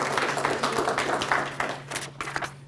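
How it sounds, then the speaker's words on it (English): Light applause from an audience at a local history talk, a soft patter of scattered clapping lasting a couple of seconds, fairly distant and quiet. "I think Bonnie deserves a round of applause for everything she's done"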